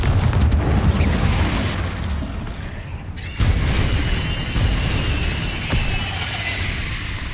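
A Confringo blasting spell in the video game Hogwarts Legacy goes off with a deep booming explosion, followed by a second loud blast and a long rumbling, debris-filled roar that slowly fades.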